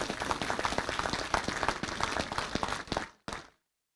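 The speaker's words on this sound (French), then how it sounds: "On peut aussi les applaudir." An audience at a mayor's New Year wishes ceremony claps steadily for about three seconds, a dense burst of applause that fades out, breaks briefly, and ends with a short final patter before silence.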